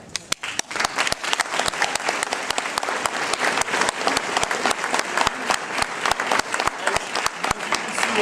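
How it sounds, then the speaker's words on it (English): A school winter concert audience gives a round of applause, loud and continuous clapping with sharp individual claps standing out near the listener. "one more round of applause for our performance"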